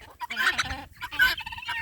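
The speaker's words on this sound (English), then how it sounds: "they're just a cross of several different breeds of chickens that my mom had" Mixed-breed chickens, a cross of several breeds resembling Delawares, cluck and squawk up close in a brief busy burst of overlapping calls.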